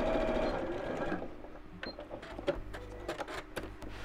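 A sewing machine stitches up a hole in a small fabric tote with a brief close whirring run, followed by quieter scattered clicks and handling taps.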